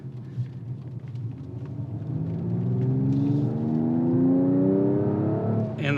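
A 2021 Mercedes-AMG E53 Coupe engine accelerates hard, its rising harmonic whine climbing steadily in pitch as revs build, loud and close with a steady rumble underneath and no talk.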